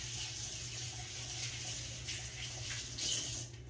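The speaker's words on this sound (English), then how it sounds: "Let me rinse my hands off." Water runs steadily from a kitchen tap while hands are rinsed, making a continuous close splashing hiss with small shifts as the hands move under the stream and no speech.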